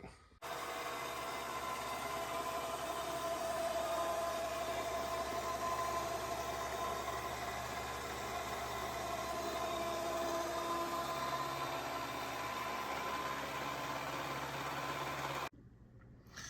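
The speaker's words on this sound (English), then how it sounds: "So let's get to machining the intake flange side of the intake." A milling machine cuts the intake flange face of a lost-foam cast Boss 429 intake manifold for a Mercruiser 470, giving a steady, loud broadband whir and hum with a faint tonal whine, running unbroken for about fifteen seconds before stopping abruptly.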